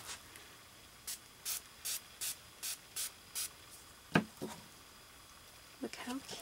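A spray bottle spritzes seven times in a steady rhythm, each burst a short, close hiss, followed by a few faint handling knocks.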